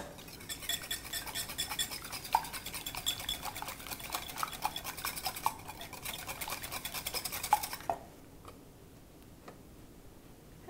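Spoon stirring bechamel sauce into a savory custard for Greek pastitsio, a rapid steady ticking scrape against the pot that stops near the end and leaves a quieter room, no talking.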